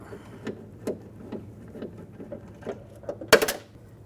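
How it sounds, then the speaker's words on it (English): A ratchet turns a 10mm socket to back out a bolt on a 2006-2010 BMW 550i front door during window regulator replacement, giving a quiet run of soft rhythmic clicks with a sharp clack near the end. "I'm going to use a 10mm socket. Take this bolt out."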